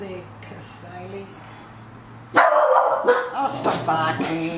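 Several dogs bark loudly and repeatedly in a burst, after a quieter stretch where a person talks over faint background yips.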